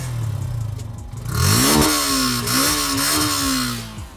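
Yamaha FZ S V3 149cc motorcycle engine idles with a steady thump, then is revved up and held, the exhaust note rising and easing back in a mellow, moderate tone, close and loud with no talking.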